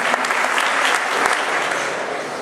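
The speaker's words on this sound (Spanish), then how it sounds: "para quien pedimos un fuerte aplauso" Audience applause at a union section's annual report event, a dense, steady wash of many hands clapping at even loudness for the whole stretch, with no voices rising above it.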